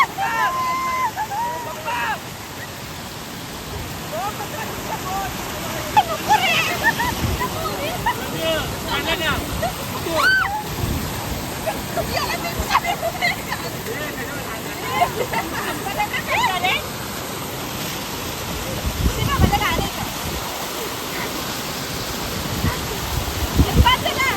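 River water pouring over a village dam in Maharashtra, a loud continuous roar like a waterfall filling the whole clip, with several people chatting and voices in the background.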